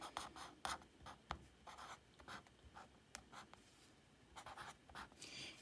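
A hand writes the word nickel, the pen or pencil giving soft, close scratching strokes in quick irregular bursts with brief pauses, faint and alone.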